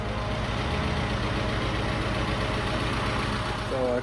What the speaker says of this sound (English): Getting rid of the tractor finally.